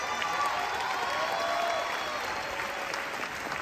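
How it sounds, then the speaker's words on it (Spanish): A theatre audience at a musical premiere applauds, a continuous, even wash of many hands clapping, moderately distant and steady for the whole stretch. "Un hermoso aplauso para todo el staff y el crew"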